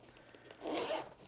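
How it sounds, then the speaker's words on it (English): Zipper on a side compartment of a Level8 carry-on suitcase being pulled shut, one short smooth zip rasp, close and clear against a quiet room. "So on this side, you can zip it here."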